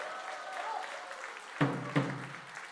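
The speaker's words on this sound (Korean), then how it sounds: "여러분 퇴장할 때까지 계속 박수를 쳐주셨으면 좋겠어요." Applause from a congregation at a church worship service, a send-off service for an evangelism festival, fairly faint and steady, with two louder thumps close together partway through.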